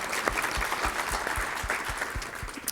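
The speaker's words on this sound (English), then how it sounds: "can we all just give ourselves a round of applause" A live room of attendees at a city State of the Community event in Redlands gives a round of applause: steady, fairly faint clapping with low rhythmic thumps running through it.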